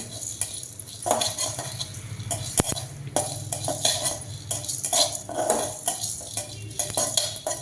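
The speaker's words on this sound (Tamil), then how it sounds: "வெந்தயத்தையும் ஜீரக மிளகையும் லைட்டாக வறுத்து" Fenugreek seeds, cumin and black pepper dry roasted in a pan, with steady scraping and stirring of a spoon against the metal, scattered light clinks, and a continuous close rustle of seeds moving around.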